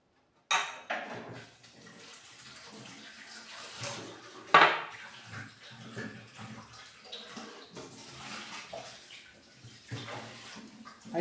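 Cake batter for a chocolate-coconut prestígio cake being mixed in a bowl, with irregular scraping and clinking of utensil against the bowl, a sharp clack about midway, and no talking.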